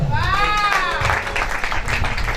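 A church congregation at a deliverance and prophecy service claps together for Jesus, a steady wash of applause mixed with a sustained sung or shouted voice above it.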